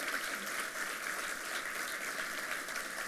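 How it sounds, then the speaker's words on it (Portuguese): Audience applause at the opening ceremony of an ESG energy forum conference, a steady, dense wash of clapping that holds evenly throughout, moderately loud and heard on its own. "eu queria pedir uma salva de palmas"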